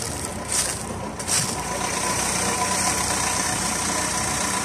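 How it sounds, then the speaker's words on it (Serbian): A Renault 4 GTL with a 1100cc petrol engine idles under its open bonnet, giving a steady, even, fairly quiet running note that holds without revving or speech. "Benzinac od 1100 kubika."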